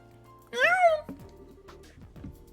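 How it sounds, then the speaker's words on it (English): A cat named Antoine in the video game Trails in the Sky gives a single short, rising meow, clear and close, amid game sound effects and background music. "It's the cat who helped us."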